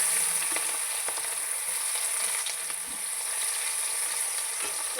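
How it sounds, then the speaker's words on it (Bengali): Chopped onions and mustard seeds frying in hot oil in a pan, a steady, continuous close sizzle and crackle with no voices. "এবার ওর মধ্যেই আমি কেটে রাখা পেঁয়াজগুলোকে দিয়ে দেব।"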